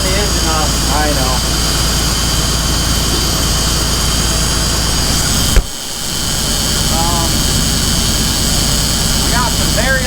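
A school bus engine in a wrecking yard runs with a loud, steady, close drone that cuts off abruptly partway through, leaving a lower rumble. Indistinct voices are heard over the engine noise.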